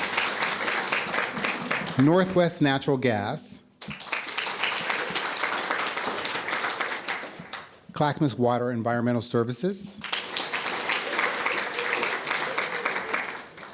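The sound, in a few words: audience clapping for forum sponsors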